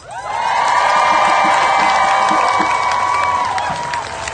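An outdoor abortion-rights rally crowd in Portland, Oregon cheers and whoops loudly, a sustained roar of many voices with a long shrill tone over it, tapering slightly near the end.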